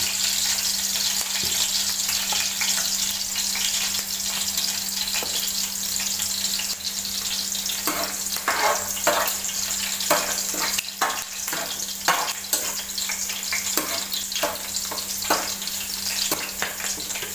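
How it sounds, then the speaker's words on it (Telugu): Green chilies are frying in hot oil for a simple Telugu-style chicken curry, with a steady, loud sizzle running throughout and sharper crackles and spits bursting in from about eight seconds on, with no talking. "ఆయిల్ హీట్ అయిన తర్వాత దీనికి మిర్చిని వేసుకోవాలి. ఈ విధంగా వేసిన మిర్చి కొంచెం సేపు వేగేంత వరకు వేసుకోవాలి."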